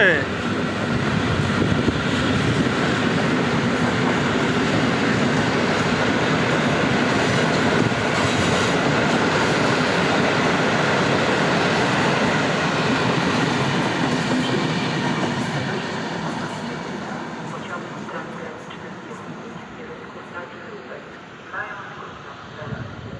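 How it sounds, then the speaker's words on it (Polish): An Intercity train, running late, rolls into Szczecin Główny station with a loud, sustained rumble and clatter of wheels, a voice faintly underneath, then the noise gradually eases off. "A tutaj wjeżdża opóźniony około 5 minut pociąg Intercity Albatros"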